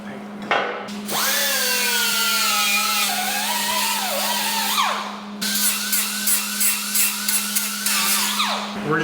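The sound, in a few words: grinding metal tube ends and spots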